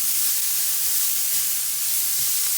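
Freshly cut leeks sizzle in butter in a pan while being stirred, a steady, loud hiss throughout with no voices.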